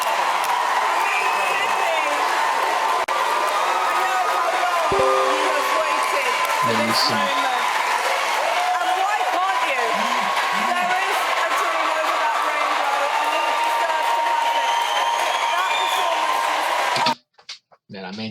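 A sustained roar of applause and cheering fills a theatre at the Britain's Got Talent 2024 final after a performance, steady and loud, with a voice speaking over it before it cuts off abruptly near the end.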